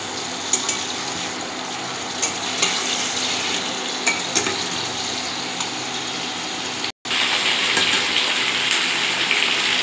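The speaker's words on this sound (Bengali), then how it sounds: "মাছটা বেশি ভাজবো না, খালি এক পিট ও পিট করে দেবো" Fish (ilish) frying in hot oil, a dense continuous crackling sizzle with occasional louder pops and spatula taps, close up, briefly cutting out before resuming.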